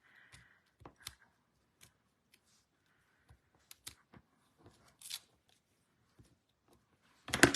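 A few sparse snips and soft paper rustles come from scissors trimming a papercraft piece at close range, with quiet gaps between cuts and a louder rustling burst at the end.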